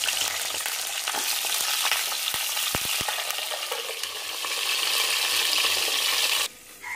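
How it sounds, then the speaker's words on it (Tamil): Brinjal pieces frying in hot oil for a brinjal side dish, giving a steady, dense sizzle throughout with a few brief clinks of a spatula midway, then a sudden drop in level near the end; no one talks. "கத்திரிக்காயை போட்டு வதக்கி எடுத்துக்கலாம்."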